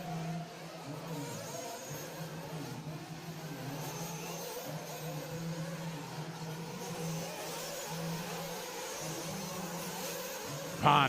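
Off-road racing buggy engines revving at a championship race, a steady distant droning hum that rises and falls, with a brief louder burst at the end.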